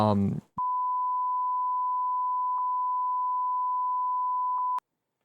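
A brief voice is cut off by a steady, loud single-tone beep lasting about four seconds, followed by silence.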